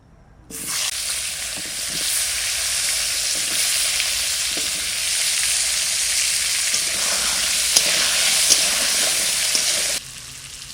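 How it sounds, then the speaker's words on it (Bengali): Potatoes fry in oil left over from frying sea fish, giving a steady, loud, bright sizzle that starts abruptly and continues evenly for about ten seconds, with a few faint pops and stirs. "ওই তেলের মধ্যে আমি আলুটা ভেজে নেবো"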